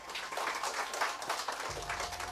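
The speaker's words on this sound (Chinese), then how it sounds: "俾啲大力嘅掌声" An audience at a Buddhist lecture in a Hong Kong lecture hall gives a brief round of applause, heard faint and somewhat distant.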